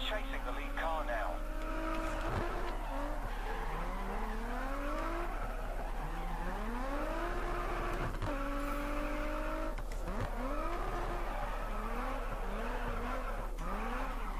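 Race cars in GRID Autosport whine through rising and falling gear changes over a steady engine drone, with several brief tire skids and impacts, talk running over the top.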